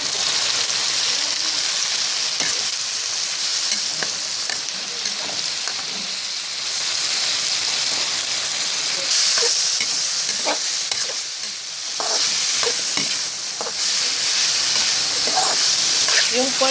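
Garlic and half-cooked boiled pork sautéing in a pan for pancit habhab, a continuous close sizzle and hiss with scattered stirring scrapes and clicks throughout.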